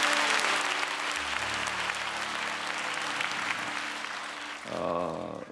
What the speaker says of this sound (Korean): 우리 아이들을 응원해 주십시오. 박수 쳐 주시고.